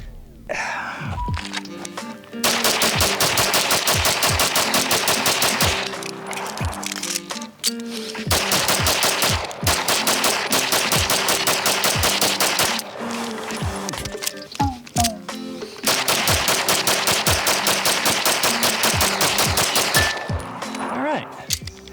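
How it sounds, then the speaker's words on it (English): Three bursts of rapid handgun fire, each a fast unbroken string of sharp shots emptying a full magazine, with brief pauses between the bursts; close and loud. "It's going to be 3 mag dumps going as fast and as accurate as we can."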